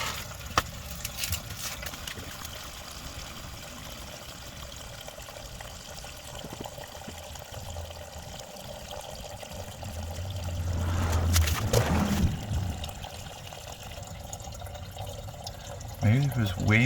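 Gasoline drains from the gas tank of a 1974 VW Baja, a steady close trickle of liquid that swells into a heavier gush midway before settling back to a dribble.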